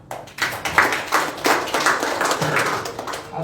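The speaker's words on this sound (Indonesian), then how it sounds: "Tepuk tangan buat Tuhan." A church congregation at an Easter service claps, with uneven bursts of hands that swell and fade as individual claps stand out, close and moderately loud, without talk.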